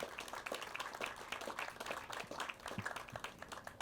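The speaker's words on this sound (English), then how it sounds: "round of applause." A press-conference crowd claps quietly and somewhat sparsely, a faint, uneven patter of hands heard from a distance.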